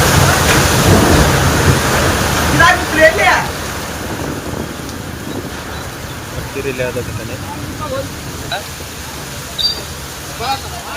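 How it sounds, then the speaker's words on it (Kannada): Heavy rain and a wind storm with thunder lash Kakkeri, a steady roaring downpour with gusting wind and a few louder rumbling surges rising through the continuous wash of noise. "ಕಕ್ಕೇರಿಲಿ ಭಾರಿ ಮಳಿ, ಗಾಳಿ ಮಳಿ."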